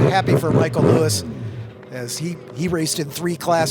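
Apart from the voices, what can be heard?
No distinct noise like a dog, phone or traffic.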